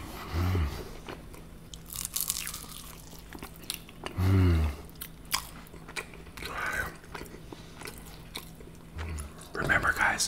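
Crispy kebab shop food such as falafel, lamb wraps and doner fries is bitten and chewed up close, with a few sharp loud crunches and quieter chewing between them, under a steady low hum.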